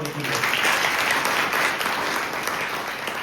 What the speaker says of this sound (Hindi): एक बार ताली